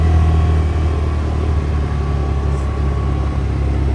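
A 2023 CFMoto UForce 600 UTV engine drones steadily while driving slowly through snow, a constant loud low rumble with no distinct revving.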